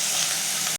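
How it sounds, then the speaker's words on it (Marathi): Chopped onion frying in oil, a short burst of continuous sizzling hiss that cuts off abruptly. "चॉप ऑनियन फ्राय करायचं आहे"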